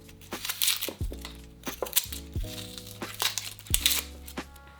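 Papery onion skin peeled away by hand after scoring the first layer with a knife, repeated close crinkling and crackling bursts, with some low knocks against a board and no speech.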